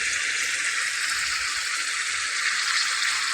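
Eggplant frying in hot oil in a pan, a steady, loud, continuous sizzle with no breaks, close to the pan and with no talking over it.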